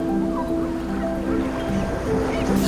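Sea waves on the Costa Brava shore make a constant washing roar of surf with a low rumble and faint tonal hum underneath, steady and fairly near, with no clear talk.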